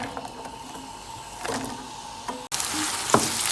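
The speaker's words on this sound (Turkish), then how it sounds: "Evet, soğanım kavruluyor" Onions frying in a pan for Antakya-style lentil rice, a steady sizzle that swells into a louder, denser hiss after fresh onions are added partway through, with occasional stirring scrapes.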